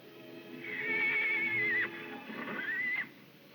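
Nervous horses neigh at night in a frontier setting, two loud whinnies in succession, the first long and rising, the second shorter, over faint background noise.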